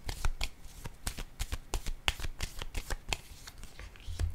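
Tarot cards shuffled and drawn by hand, a steady run of crisp riffles and slaps close up, with a low thump near the end and no speech.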